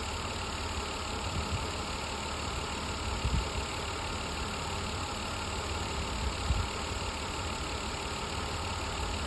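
A car engine idles steadily at low volume during a battery charging test, a continuous rumble with no talking over it.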